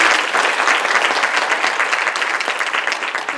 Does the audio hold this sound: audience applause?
yes